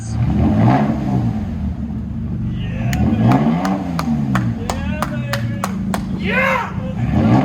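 A Toyota Tacoma with a very loud exhaust revs repeatedly, its engine note rising and falling in close, booming pulls, punctuated by sharp cracking pops from the exhaust, while voices talk over it.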